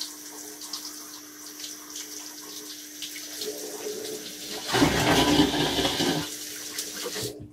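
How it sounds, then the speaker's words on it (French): Water rushes through a hookah hose during a cold-water rinse, a steady gurgling flow that swells loudly midway and then eases, with no talk. "Maintenant qu'on l'a bien lavé à l'eau chaude, un petit coup d'eau froide"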